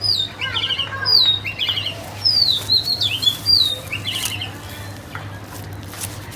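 Calls from birds in a pigeon loft, a newly arrived pigeon among them: scattered short chirps and squawks come in bursts over a steady low hum, fairly close and moderately loud, with no talking.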